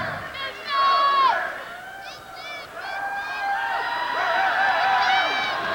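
A large basketball crowd in Toledo roars and whoops at a 1988 MAC championship game between Ball State and Kent State, with rising and falling cheers and excited voices throughout.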